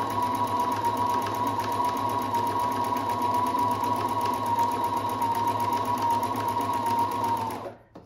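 A Husqvarna 330 electronic sewing machine runs steadily while stitching fabric, giving a continuous close whirring hum with a fast mechanical needle rhythm for several seconds before stopping abruptly at the end.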